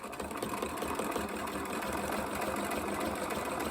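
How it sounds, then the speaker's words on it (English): A sewing machine runs a steady zigzag stitch over the raw edge of dress fabric, a continuous close mechanical whir with a rapid rhythmic needle chatter, loud and unbroken, with no talking. "I'm just going to put this onto a zigzag, and we're going to finish that raw edge as well."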